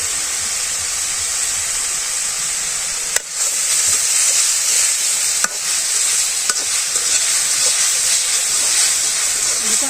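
Leafy greens fry in a little hot oil with a loud, steady, close-up hiss, broken by a couple of sharp clacks from a spoon stirring the pan.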